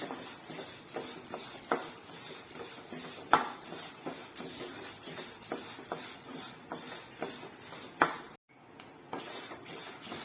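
Horse gram being stirred while it roasts in a pan, a spoon scraping and knocking against the metal with frequent light clicks and rattles of the grains and occasional sharper clinks, then a brief pause near the end.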